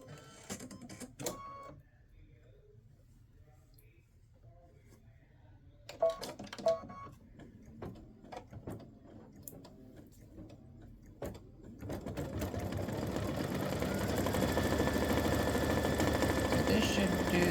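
Sewing machine stitching a football turkey mug rug, running in a few short bursts before settling into a steady, continuous whir that grows louder and carries through to the end.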